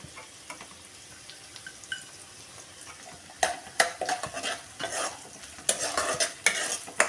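Small pieces of tomato, garlic and a bit of ginger hit hot oil for masala khichdi, starting with faint ticks before bursts of sizzling and scraping stirring in the pan grow louder and more frequent.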